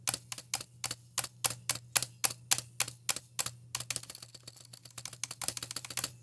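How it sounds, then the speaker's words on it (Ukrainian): A Bloody optical keyboard's spacebar is pressed in an even, repeated rhythm, each sharp clack ringing slightly with spring noise, then quicker typing follows. "це звук пробіла, який віддає звук пружини"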